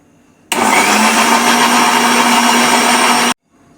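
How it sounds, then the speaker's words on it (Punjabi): A small mixer grinder jar purees tomatoes. The motor kicks in abruptly with a loud, steady, close whirring roar, runs for about three seconds, then cuts off sharply into near silence. "ਮਿਕਸੀ ਦੇ ਛੋਟੇ ਤੇ ਇਹਨੂੰ ਆਪਾਂ ਟੱਕ ਕੇ ਇਹਦੀ ਇੱਕ ਪਿਊਰੀ ਬਣਾ ਕੇ ਤਿਆਰ ਕਰਾਂਗੇ ਜੀ"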